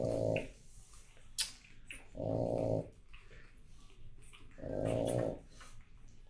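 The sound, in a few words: pug mother dog snoring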